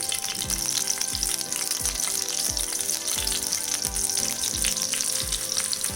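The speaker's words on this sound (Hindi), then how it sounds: "तेल गर्म हो गया, इसमें सबसे पहले मैंने 4 हरी मिर्च को तोड़ के डाला है।" Four broken green chilies fry in hot oil in a pan with a steady, loud sizzle, while soft regular thumps of stirring or tossing sound beneath it.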